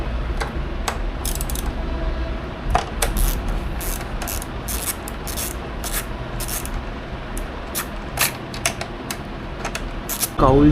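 Bolts being loosened to remove the grab rail unit from a Yamaha XSR motorcycle: rapid, repeated ratchet clicking in short bursts, close up, over a low steady background.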